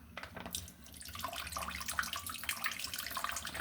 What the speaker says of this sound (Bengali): আমি দুধ ঢেলে দিচ্ছি মিষ্টিগুলো